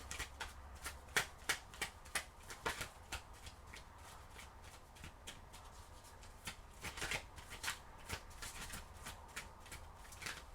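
Tarot cards are shuffled close by with quiet, repeated riffling bursts and soft flicks in an uneven rhythm, alone with no voices.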